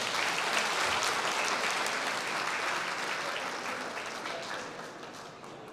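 Sustained audience applause at a school folk-dance performance, dense broadband clapping from a crowd holding steady and slowly fading toward the end, with no talk over it.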